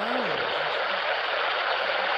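Kishwaukee River water flows in a steady broadband rush outdoors, a constant close wash with wind, no voices over it.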